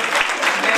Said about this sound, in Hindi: तालियां इनके लिए भी होनी चाहिए